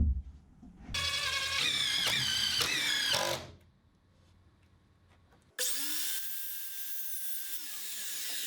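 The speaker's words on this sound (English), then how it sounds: "then the aluminum angles for the edges are cut" Power tools working aluminum edge angles for a home-built bar, with a steady loud whining cut of a few seconds, a quiet pause, then a second sustained high-pitched machining run.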